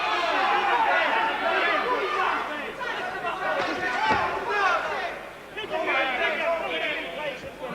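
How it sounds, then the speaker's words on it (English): A boxing crowd boos the referee during the Naseem Hamed vs Vincenzo Belcastro bout, a broad roar of jeers and chatter rising and falling while a commentator talks over it. "they're booing the referee, not Hamed."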